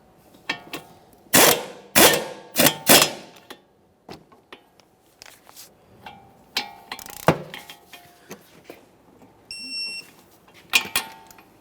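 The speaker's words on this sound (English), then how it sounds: "Once you've torqued the ball joint nut," Ratchet and torque wrench clicks on the lower ball joint nut of a 2014-2019 Toyota Corolla: sharp, close bursts of clicking in several quick groups, with pauses of metallic handling between them and a brief beep near the end.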